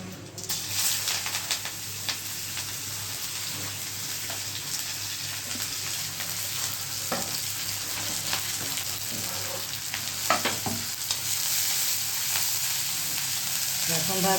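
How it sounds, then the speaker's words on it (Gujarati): Mustard seeds, cumin and asafoetida crackling in hot oil for a Gujarati tempering, a dense steady sizzle with occasional sharp pops and stirring clicks, close up, no talk. "રાઈ નાખી, જીરું અને આ હિંગ."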